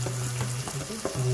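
Blended dried chilli paste frying in a pan with onions for homemade yellow glutinous rice, a steady close sizzle with occasional stirring clatter, no talk.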